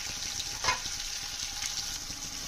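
Something frying slowly in a pan for a home-cooked tarkari gives a soft, continuous sizzle with faint crackles and one brief stir or clink, quiet and close.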